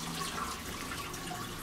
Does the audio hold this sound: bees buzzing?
no